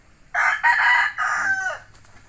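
A rooster crows once, loud and close, a long drawn-out cock-a-doodle-doo that trails off at the end.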